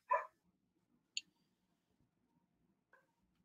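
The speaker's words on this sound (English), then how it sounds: "One of the dogs is barking." Dog barking at an arriving delivery driver: one short bark at the start, then a brief yelp and a fainter bark, with quiet gaps between them.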